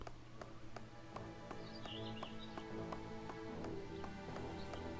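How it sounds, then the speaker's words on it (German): Donkey hooves clopping on stone in the video game ArcheAge, a steady rhythmic series of close taps over a droning music bed, with faint bird chirps in the background. "Die Hufgeräusche des Esels auf dem Stein."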